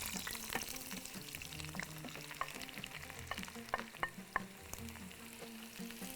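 Onions frying in a pan until golden, a constant close sizzle broken by scraping stirs and a few sharp utensil taps against the pan.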